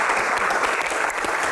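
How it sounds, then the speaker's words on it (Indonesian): A studio audience on a game show breaks into a steady wash of applause, close and sustained throughout the short stretch, with no voices on top. "Yang pasti aja, tepuk tangan dong."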